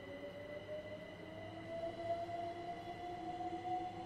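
Train in a train simulator video game running the ScotRail set, accelerating in notch 4, with a faint steady engine drone and a slowly rising tonal whine, no talking.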